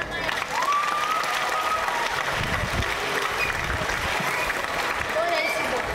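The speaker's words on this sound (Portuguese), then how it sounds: "Parabéns, palmas pra Maiara." Audience applause at a youth audience-development event in Suzano, steady clapping from a crowd that holds at an even level across the whole stretch, with no talk over it.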